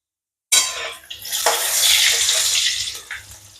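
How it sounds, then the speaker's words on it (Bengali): Potatoes fry in a pan, giving a loud, close sizzle that starts abruptly and crackles on steadily, with faint utensil clinks. "আমি একটু আলুগুলোকে একটু ভেজে নিচ্ছি।"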